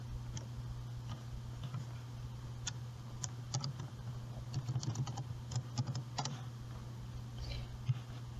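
Typing a search on a computer keyboard, a steady run of soft close key clicks at an even pace over a low constant hum, with no talking.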